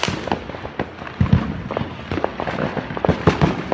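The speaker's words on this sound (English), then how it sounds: "It's like fireworks in every direction." New Year's fireworks on Oahu pop and crackle from every direction, a dense, continuous barrage of near and distant bangs with no pauses.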